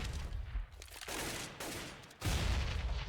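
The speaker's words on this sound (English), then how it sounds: "quick frag made by Shox there" Gunfire in Counter-Strike: Global Offensive during a professional esports match on the Cache map, dense rapid bursts of shots that pause briefly and resume, loud and continuous with no speech.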